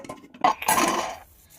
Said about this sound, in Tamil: இப்ப நம்ம குக்கரை மூடிடலாம்.